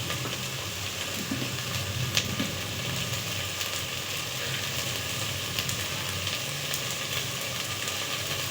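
Ghee heats on a large stove in a pan for hotel-style pulao, giving a steady, dense sizzle with faint crackles, continuous and close with no pauses.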